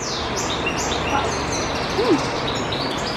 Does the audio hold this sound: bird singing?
yes